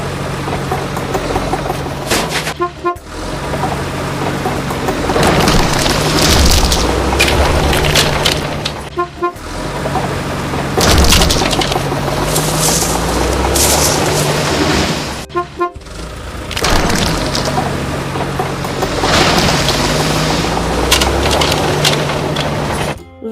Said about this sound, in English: Let's destroy dilapidated constructions.